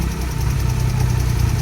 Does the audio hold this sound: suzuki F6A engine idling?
yes